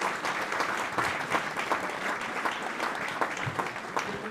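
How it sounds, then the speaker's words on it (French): An audience in Grenoble applauds after a short film screening, dense sustained clapping from a crowd filling the whole stretch at an even level, with no pauses. "On peut les applaudir pour ça."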